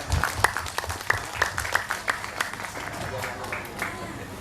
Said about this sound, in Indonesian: tepuk tangan buat mama luar biasa